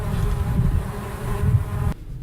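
Bees drone steadily through a cherry orchard in a dense, continuous insect hum, close and fairly loud, cutting off abruptly near the end.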